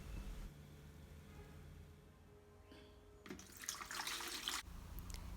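Cooled homemade ginger beer liquid poured from a pot, a short gurgling splash of pouring water rising after a quiet start, close and moderately loud for about a second before stopping.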